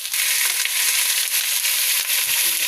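Chicken pieces frying in hot oil, a loud, dense crackling sizzle with sharp pops scattered through it, close and continuous.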